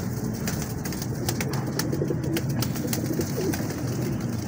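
Star pigeons coo in low, soft, repeated murmurs, close by, over a steady background of rustling and faint high chirps.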